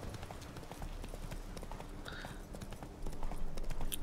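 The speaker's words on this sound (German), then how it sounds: "Offroad-Pferd." Rapid hoofbeats of a horse galloping off-road in The Witcher 3: Wild Hunt, steady clip-clop rhythm with game ambience, getting a bit louder near the end.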